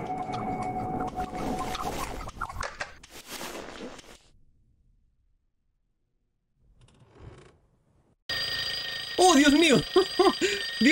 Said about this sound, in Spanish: Me llevé un susto de la alarma.